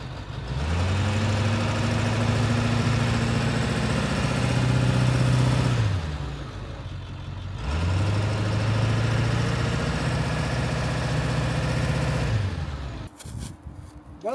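A bus engine stuck in sand revs hard in two long, steady pushes separated by a brief drop toward idle, its loud, low drone straining throughout before cutting off near the end.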